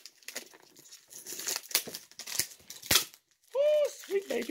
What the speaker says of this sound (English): But we're going to rip it open anyway.